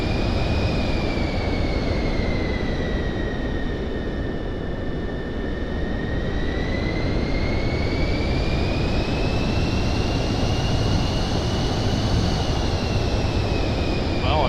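A Pilatus aircraft engine held on manual throttle in a flight simulator drones steadily for the whole stretch, a broad constant roar with a slowly wavering whine riding on top and no talk.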